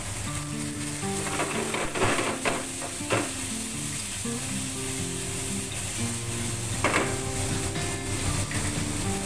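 Pork neck stir-fried with chili and salt sizzles steadily in a hot pan, with scraping stirs and clattering utensil hits rising at moments over a constant frying hiss.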